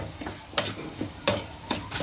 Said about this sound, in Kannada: ಇವಾಗ ಡ್ರೈ ಫ್ರೂಟ್ಸ್ ಎಲ್ಲ ಕರೆಕ್ಟಾಗಿ ಫ್ರೈ ಆದವು ರೀ